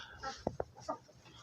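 Barkovskaya barred hens and a rooster, a flock of about a dozen birds, give a few short, quiet clucks close together, two sharp ones followed by a softer call, at low volume.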